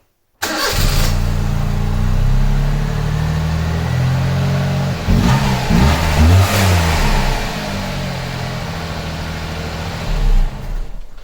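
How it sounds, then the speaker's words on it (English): Honda Beat engine cranking and catching after a brief silence, then settling into a busy idle with several sharp revs in the middle and a final blip, loud and close. "I might as well just start the car to make sure everything's okay."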